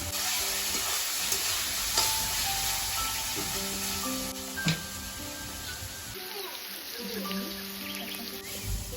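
Chicken pieces fry with chopped chilli, onion and garlic in a pan, giving a soft, continuous low sizzle with a few faint tonal background sounds, quiet and alone.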